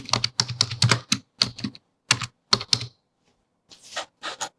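Rapid bursts of typing on a computer keyboard while entering a short label into a design program, clustered keystrokes that stop, then a few softer taps after a pause; nearby and clear, with no talking.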